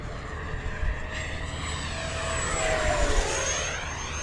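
A small 70mm ducted-fan jet engine on an FMS Avanti V3 model aircraft whines loudly as it passes low overhead, the pitch sliding downward as it goes by, with no voices.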